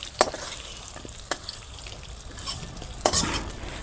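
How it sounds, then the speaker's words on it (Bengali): Pumpkin and pointed gourd fry in a pan with a soft, steady sizzle, broken by a few sharp scraping stirs of a utensil against the pan. "দেখো মিষ্টি কুমড়া আর পটল কিন্তু আমি সুন্দর করে লাল লাল করে ভেজে নিলাম"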